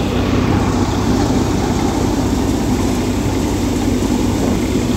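A Swaraj 855 tractor engine running close by in a field, a loud, continuous low rumble with a dense steady texture and no pauses.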